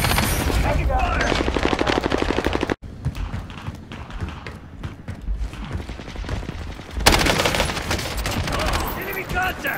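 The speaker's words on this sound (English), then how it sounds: "Heavy fire." Heavy gunfire in the Warzone video game, with dense rapid automatic bursts, a sudden cutoff, quieter scattered shots and thuds, then another loud barrage, with game voices faintly underneath.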